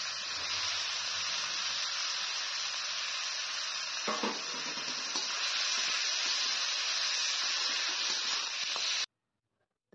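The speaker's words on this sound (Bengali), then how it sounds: "তো এবার আমি কিছুক্ষণ নেড়েচেড়ে ভেজে নিচ্ছি।" Potatoes and carrots fry in oil and ghee with cumin seeds and dry red chillies, giving a steady, close, bright sizzle and hiss that runs unbroken for about nine seconds with faint stirring scrapes midway, then cuts to silence.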